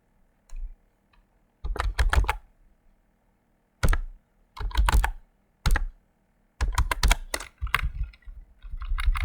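Someone types JavaScript code on a computer keyboard, with quick clusters of crisp, close key clicks separated by short pauses. No voices are present.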